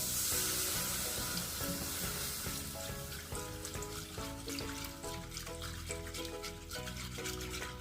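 Flour and butter sizzle in a pan as milk is stirred in for béchamel sauce, a steady frying hiss with soft stirring, while music plays along throughout.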